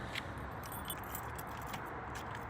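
A small bunch of padlock keys jangles in bright, brief metallic clinks near a homemade wooden truck camper, faint over a steady low rumble, with no voices.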